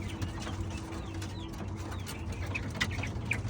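A 45-day-old young female quail, weighing about 450 grams and just beginning to call, gives a few faint, soft chirps toward the end over a low steady background hum.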